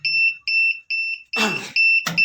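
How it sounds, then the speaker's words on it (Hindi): The fault alarm on an automatic packing machine beeps in a regular pattern of short, piercing tones, loud and close, with brief bursts of speech breaking in between the beeps. "जब भी कोई फॉल्ट आएगा तो ये अलार्म बजेगा।"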